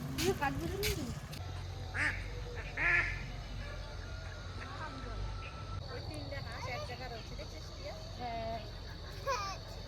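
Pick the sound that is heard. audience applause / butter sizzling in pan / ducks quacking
ducks quacking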